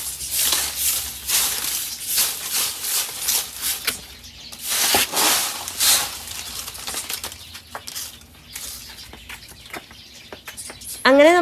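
A pet bird chirps in short, irregular bursts close by, with rustling and flapping between calls, ending in a rising whistle.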